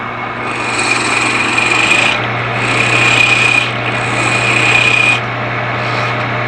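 A roughing out gouge cuts into spinning wood on a lathe, giving a loud, steady rasping scrape in three long passes with brief lulls between, over a constant motor drone, close up.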